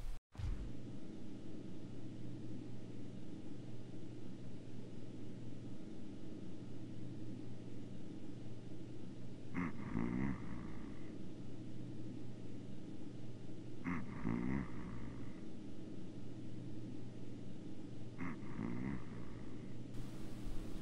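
Men snore in the video game GTA San Andreas, a low steady rumbling drone with three short rasping snore bursts spaced a few seconds apart, faint and unaccompanied by talk.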